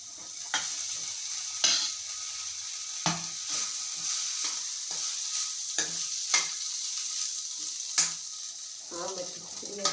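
Khichdi stirred and mixed in a pan with dry spices, a steady sizzle under repeated scraping strokes of a spoon against the pan at an uneven rhythm, close and fairly loud.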